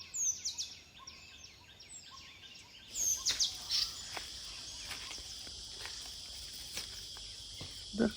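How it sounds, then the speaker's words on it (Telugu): Birds chirp in a sunny forest during monsoon mushroom foraging, thin high calls and trills scattered throughout, fairly faint, with crickets buzzing and occasional footsteps or rustling nearby. "పిట్టలు బాగా ఉన్నాయి ఇక్కడ."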